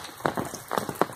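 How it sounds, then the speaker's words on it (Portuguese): A short burst of rain patters on a nearby surface, a few distinct drop impacts heard close under an umbrella. "olha que beleza de chuva"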